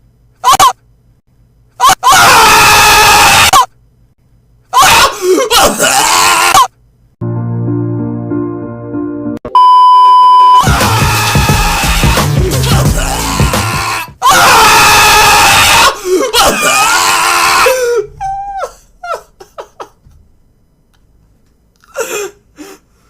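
A person lets out a series of loud, harsh screams in long bursts separated by pauses, mixed with other strange vocal noises and laughter toward the end.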